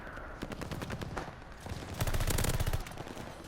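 Assault rifle in Call of Duty Vanguard firing at 12 rounds per second, with rapid sustained bursts of automatic fire, loud and close, the densest stretch near the end.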